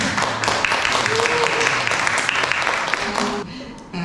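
An audience at a small book talk in a gallery cafe studio claps steadily after a live performance, the applause holding evenly before dropping off near the end.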